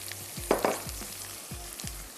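Green chilli paste and cumin frying in a pan for a boneless fish gravy, a soft steady sizzle broken by a few louder spattering pops and low clanks of a spoon against the pan.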